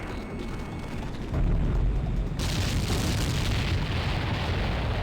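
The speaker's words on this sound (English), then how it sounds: "That was a very loud explosion." A loud explosion in the Ace Combat X video game, a heavy boom that swells into a sustained roaring blast and rumbling debris noise, with no talk.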